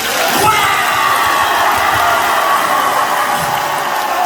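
A crowd at an emergency rally held as a worship service cheers and shouts together in a loud, continuous roar that stays close and steady throughout, with voices overlapping and no single speaker standing out.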